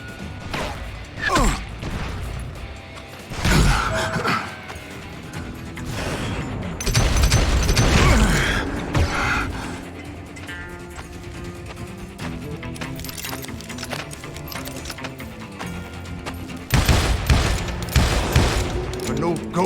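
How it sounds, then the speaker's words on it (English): Double-barrel shotgun fire in the Call of Juarez: Gunslinger game, loud sharp blasts scattered among crashes and bursts of rapid gunfire, with background game sounds and some voice between shots. "Robert Ollinger appeared with his terrible double-barrel shotgun."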